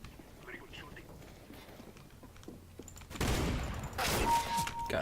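Gunfire in the video game CS:GO, a burst of loud broadband shots arriving in two clusters over the last two seconds after quieter game ambience.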